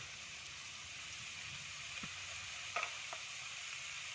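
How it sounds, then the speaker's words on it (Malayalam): Hummingbird flower stir fry with grated coconut sautéing in a pan, giving a steady, faint sizzle with a few soft scraping stirs partway through. "നന്നായിട്ട് അങ്ങോട്ട് വഴറ്റി കൊടുക്കാം."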